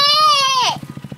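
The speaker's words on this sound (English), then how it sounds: "saw a motorcycle" A motorcycle idles close by with a steady, regular low pulsing, while a loud high-pitched voice sounds over it for about half a second and then drops away.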